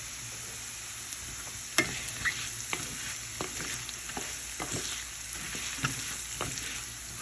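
Rice with onion and garlic frying in a pan on low to medium heat, a soft continuous sizzle with occasional clicks and scrapes of stirring, fairly quiet and close, without speech.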